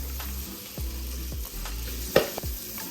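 Onions, garlic, and red and yellow peppers frying in butter in a pan, a steady close sizzle broken by a few utensil scrapes and clanks against the pan.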